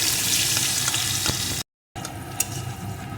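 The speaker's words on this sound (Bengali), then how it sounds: "পেঁয়াজ কুচিটা একটু ভেজে নেব খুব লাল লাল করবো না" Chopped onion frying in oil in a pan for a fish curry, a steady bright sizzle with a few stirring scrapes and a brief gap partway through.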